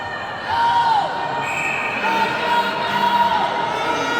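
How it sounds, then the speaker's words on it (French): Spectators at an under-18 ice hockey game cheering for their home team, a continuous roar of crowd noise with whistles and shouts rising and falling in the arena. "que la foule encourage son équipe locale"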